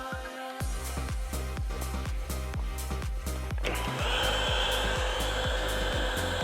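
A heat gun blows hot air onto vinyl wrap on a van, making a steady loud fan whir with a rhythmic pulsing, which shifts to a brighter, harsher hiss partway through.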